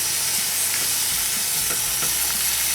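Stir-fry sizzles steadily in a de Buyer carbon steel pan, with a loud continuous frying hiss and a few soft scrapes and stirring clicks, and no voices.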